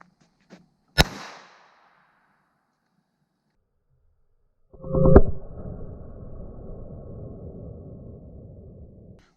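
A trip wire signal device fires a blank on a test pull: one sharp, loud crack with a brief ring. Seconds later a second heavy bang is followed by a long, low rumbling tail. No one speaks.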